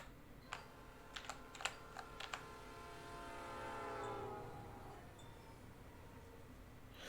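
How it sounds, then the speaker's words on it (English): A train leaves the station in the video game Pokemon Reborn, starting with a few sharp clicks and then a swelling rumbling horn-like tone that rises and fades, quiet overall with no talking. "Train's leaving any minute."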